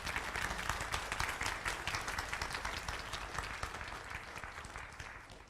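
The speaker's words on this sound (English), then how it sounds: "let's give another round of applause for our speaker" A lecture audience gives a round of applause for the speaker after a technical talk on lithium batteries, with steady dense clapping of moderate loudness that tapers slightly toward the end.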